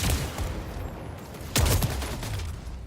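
Shotgun fire in a video game arena, heard as two loud blasts about a second and a half apart, each trailing off into a noisy rumble.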